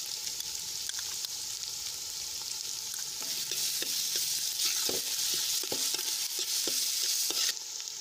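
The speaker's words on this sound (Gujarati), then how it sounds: "ડુંગળી આછા ગુલાબી રંગની થાય ત્યાં સુધી આપણે સંતળાવા દઈશું" Onions sautéing with stirring in a pan over a traditional wood-fired stove, a steady close sizzle broken by scraping spoon strokes, with no voices.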